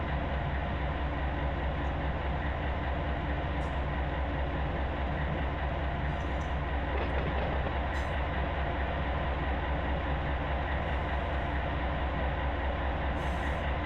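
A Santa Fe C44-9W diesel locomotive in Run 8 Train Simulator V3 hauls over Tehachapi, its engine rumbling in a steady, continuous drone with faint clicks from the rails and no talking.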